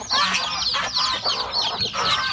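Chickens clucking busily at feeding time on a Thai farm, several close birds calling in overlapping bursts with no talking.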